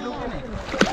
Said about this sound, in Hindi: और एक डुबकी